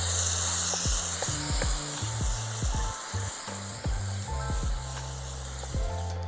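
Food sizzling steadily in hot ghee in a pan, a continuous frying hiss with scattered pops and faint utensil clicks, close and fairly loud throughout.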